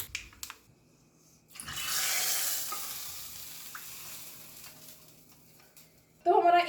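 Mustard seeds, cumin, a pinch of asafoetida, broken dried chili and curry leaves sizzle in hot oil for a tadka, a hissing frying burst swelling then fading, with clinking at the start and end.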